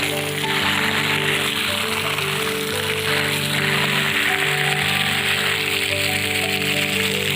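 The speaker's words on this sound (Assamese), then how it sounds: "এয়া চব ইমান ধুনীয়া পানী পৰি আছে এয়া মই ভৰি ধুইছোঁ" Water pours steadily from a tap onto feet being washed outdoors in a village, a loud, continuous close splashing rush with no talk.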